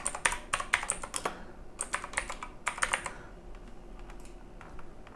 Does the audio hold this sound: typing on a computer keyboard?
yes